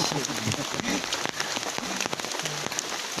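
Light drizzling rain falling outdoors on a fishing trip, a steady soft patter of drops with a few sharper taps, close and continuous, no talk.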